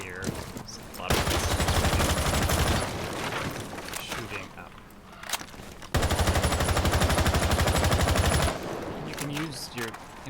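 Rapid automatic gunfire in the Rainbow Six Siege tactical shooter on the Oregon map, two long loud sustained bursts of fusillade with sharp cracks between, a voice talking over parts.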